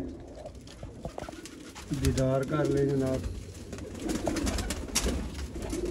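Pigeons kept by a fancier, champion-bloodline birds, coo in rich rolling bursts close by, with someone talking over them throughout.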